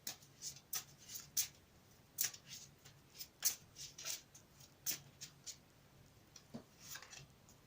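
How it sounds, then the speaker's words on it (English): Soft, crisp riffling of tarot cards being shuffled, a series of quick flutters and snaps, quiet and close. "I'll give them another quick shuffle on camera for you."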